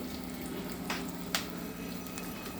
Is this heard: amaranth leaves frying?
yes